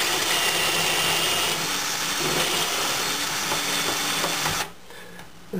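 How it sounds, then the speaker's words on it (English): A power drill whirs steadily for several seconds while drilling out a kitchen cabinet hinge hole, a continuous motor drone, then cuts off abruptly near the end, leaving a quieter background. "And I'll drill this one out."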